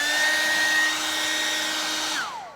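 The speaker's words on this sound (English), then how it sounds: "So I'm going to use the hairdryer." A hair dryer blows steadily with a constant motor hum and airy hiss, then its pitch drops as it switches off near the end.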